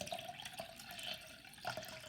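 Water runs from a tap while dal is rinsed in a kitchen sink, a faint, steady splashing flow with small irregular drips and trickles.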